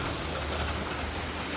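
Steady rain falling in a continuous dense hiss, close and even throughout, with no other clear sounds.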